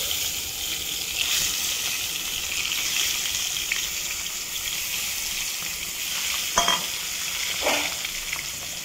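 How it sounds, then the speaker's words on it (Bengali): Steady, loud sizzling of eggs frying in hot oil, with a couple of brief clinks partway through. "এবার আমি ডিমগুলো তেলের মধ্যে ছেড়ে দিলাম"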